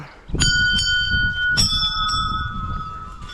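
A large bell hanging at a rural forest temple rings out in two loud strikes, each leaving a bright, sustained metallic tone that lingers and overlaps with the next, heard close and alone.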